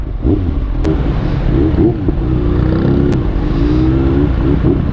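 Motorcycle engine revving hard nearby, a loud continuous buzzing drone whose pitch rises and falls through several revs, with a couple of sharp clicks.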